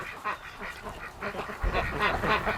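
Muscovy drake and Rouen ducks during breeding season, with a steady chorus of nasal quacks and calls rising and overlapping, close and fairly loud, no talk.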